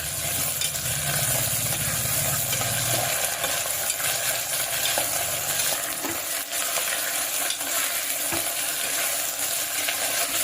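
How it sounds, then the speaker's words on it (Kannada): Peas, potato and ginger-garlic paste fry in a pan for a Maharashtrian masala bath, making a loud continuous sizzle with stirring scrapes and a low mechanical hum in the background, without speech. "ಚೆನ್ನಾಗಿ ಫ್ರೈ ಮಾಡ್ಕೊಳ್ಳಿ."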